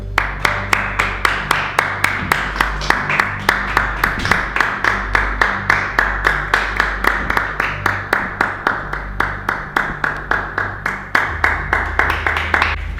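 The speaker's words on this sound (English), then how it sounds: "They keep clapping, even after I left the building." Steady rhythmic clapping from a group, many hands beating together in a fast, even pulse that continues without pause.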